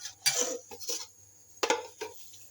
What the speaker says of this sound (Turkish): Şu çay kaşığı olduğu için şöyle tekrar karıştırıyorum.